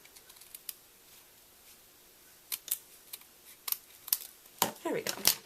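Scissors trim paper while a handmade greeting card is being made: a scatter of quick, crisp snips and paper rustles, sparse at first and then clustering closer together near the end, close to the mic and fairly quiet.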